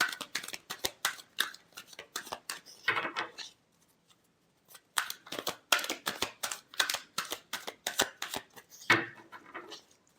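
Tarot cards shuffle by hand in quick riffling bursts of crisp, close flicks and snaps, with one brief pause partway through.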